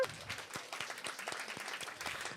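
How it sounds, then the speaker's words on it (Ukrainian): An audience at a talk show applauds guest Oleg Shumei: a soft, steady patter of many hands clapping at a distance, continuing evenly without voices. "Ваші оплески, будь ласка, Олегу"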